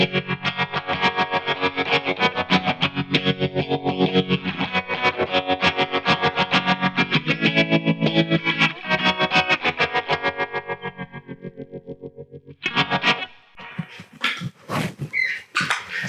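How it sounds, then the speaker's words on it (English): Distorted electric guitar through a Trelicopter pedal with a phaser added, sweeping in slow repeated whooshes over a steady chugging pattern, then fading into a few scattered noisy bursts at the end. "There's the Trelicopter. I'll kick on a phaser."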